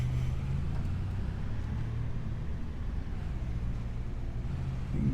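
A truck in Farming Simulator 25 accelerates with a heard-from-inside engine drone, a low steady rumble with slowly shifting tones, moderately loud and continuous, without speech.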